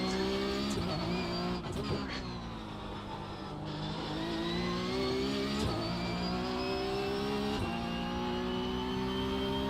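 Race car at full throttle at Summit Point in a sim racing game, a loud sustained engine whine climbing steadily in pitch, briefly dipping at gear shifts, with faint tyre scrubbing beneath.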